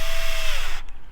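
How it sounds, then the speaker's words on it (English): A power drill whirs briefly while driving screws on a CEN F450, its motor pitch sliding downward as it winds down before stopping abruptly, loud and close. "I'm doing this with the drill because it's a lot faster"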